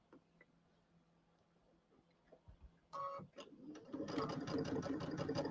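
A sewing machine fitted with a size 11 embroidery needle starts up after a near-quiet stretch, a few sharp mechanical clicks giving way to steady, fast, fairly loud stitching that runs to the end.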